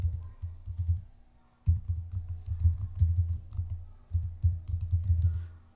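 Typing on a computer keyboard to enter a prompt for generating PowerPoint code, with three bursts of rapid, close, steady keystrokes separated by brief pauses.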